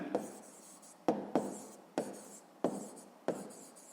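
Pen strokes on paper while working a school maths problem: a series of short scratchy bursts, each starting with a tap, close and soft with quiet gaps between.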